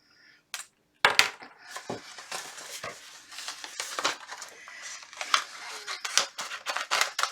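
Scissors snip through vinyl sheet with quick, crisp cuts and rustling handling noises, close up and irregular, following a brief quiet start.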